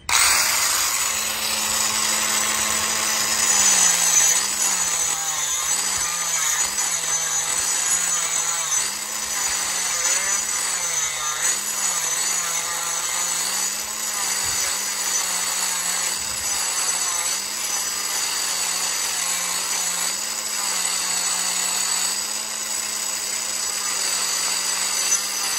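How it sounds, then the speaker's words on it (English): A small Merlin grinder fitted with a wood carving disc cuts into wood during hardwood and quarter round installation, a loud continuous whine that dips and wavers as the disc bites, with no speech. "This has got a little wood carving grinding thing on it right there."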